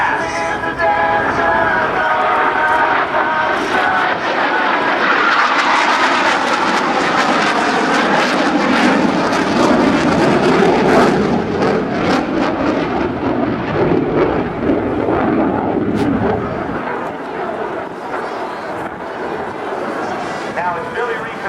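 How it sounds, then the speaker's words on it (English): A CF-18 Hornet jet fighter roars loudly and continuously through an airshow demonstration pass, rolling into knife-edge flight, its broad engine noise swelling and fading while a commentator talks over it. "as Captain Mitchell rolls the aircraft into 90 degrees of bank, knife-edge flight."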